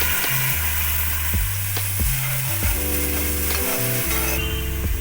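Spice-rinsing water hits garlic and onion frying for an eggplant and tengra fish curry, producing a loud, continuous sizzling hiss with low humming tones running underneath.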